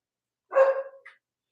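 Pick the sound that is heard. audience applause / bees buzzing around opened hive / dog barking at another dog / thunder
dog barking at another dog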